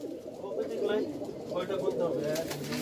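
Pigeons in a crowded loft of more than 250 birds in Rajshahi coo close by in soft, throaty, repeated burbles, with overlapping calls forming a continuous low murmur.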